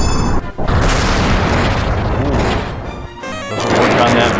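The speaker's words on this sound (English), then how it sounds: "Kaboom and kaboom." Kaboom explosion spell cast in the video game Dragon Quest V, a loud, dense blast that roars almost continuously, dips briefly, then swells again, alone without talk.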